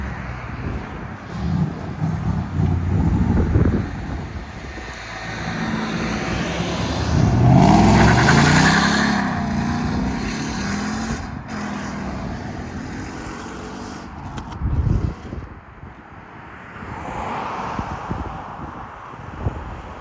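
A 2015 Ford Mustang GT with its 5.0L V8 and Valvetronic exhaust valves closed, rumbling and revving with a swell in the middle, under some wind noise and no talk.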